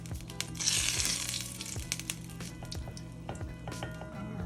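Garlic sizzles in a pot over a cooking fire, a steady crackling hiss that is loudest at the start, with occasional light metallic clinks of a utensil against the pot.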